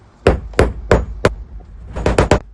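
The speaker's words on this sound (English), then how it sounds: "I'm going to use the end of the coupling here to pound this through" Metal coupling end pounding a pipe nipple through a wooden shed wall, four loud evenly spaced blows followed by a faster cluster of four more, close and sharp with no talk.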